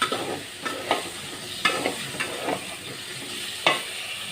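Eggplant and potatoes cooking with spices in a pan, with a steady soft sizzle and repeated stirring scrapes at irregular intervals, close by and with no voices.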